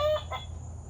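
A voice imitates a hen clucking in a children's story about a farm, giving two quick, close clucks over a low background hum.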